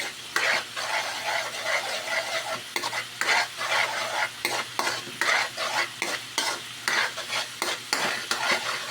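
Egg and garlic for fried rice sizzle in a hot pan while a utensil scrapes and stirs in a steady, repeating rhythm, loud and close with no talking.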